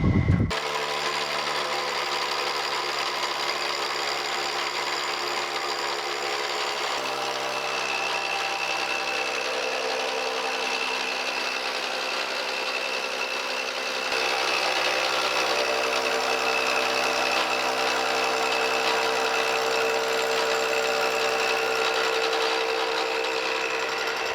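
Surface grinder working a steel 9-inch straight edge, a steady continuous grinding whine with bright high harmonics that holds throughout, growing slightly louder partway through, with no talking.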